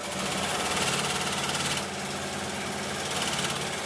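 An in-the-hoop embroidery machine stitches the outline of a stuffed cow, a fast, steady mechanical buzz with a rapid rhythmic chatter. It pauses briefly in the middle and then resumes, close and loud, with no voices.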